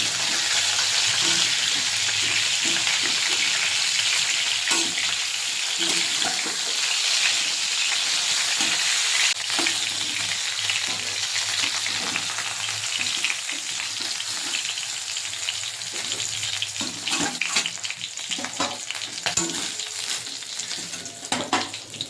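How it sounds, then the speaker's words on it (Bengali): Two potatoes fry in hot oil, giving a steady, loud, broadband sizzle that runs without a break, with faint clinks and stirring scrapes mixed in. "তেল গরম হয়ে গেছে, আমি দুটো আলু নিয়েছি, আলুটা ভেজে নেব।"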